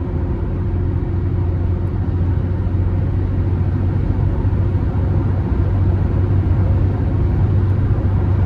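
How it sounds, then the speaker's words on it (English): Cab of a 2000 Nissan Frontier XE King Cab pickup with a 2.4-litre four-cylinder, driving at speed with a steady, even road and engine rumble and a slight wash of wind noise, no talk. "as you get up to speed here, with the truck being so small, you're just getting a tad bit of wind noise"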